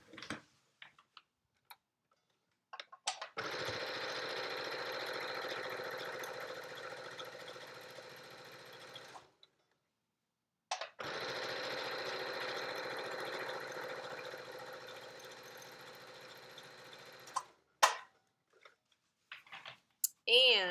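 A sewing machine stitches a Yup'ik make-up bag in two long, steady runs, each several seconds, separated by a pause, with small clicks and handling noises before and after; fairly quiet and close.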